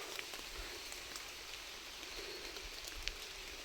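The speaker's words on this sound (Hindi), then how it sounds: "आगे पीछे सब बारिश है।" Steady rain falls outdoors under trees, a soft continuous patter with occasional louder drops striking nearby surfaces, no voices.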